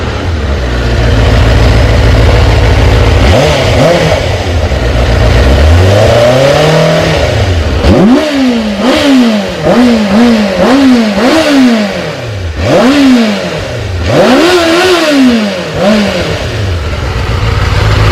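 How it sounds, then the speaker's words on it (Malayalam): A Benelli 600GT motorcycle on its stock exhaust revs repeatedly, loud and close, each throttle blip rising and falling in a steady series of climbing engine swells over a rough idle. "ഇതിപ്പോൾ ഇങ്ങനെ ഈ വണ്ടി റവ് ചെയ്യുമ്പോൾ ഇങ്ങനെ ആക്സിഡൻറ്റ് കൊടുക്കുമ്പം ഇവിടെ മിനിമം ഒരു 70 ആവണം"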